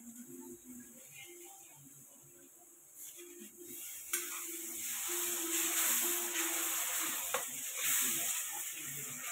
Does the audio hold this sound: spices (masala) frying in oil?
yes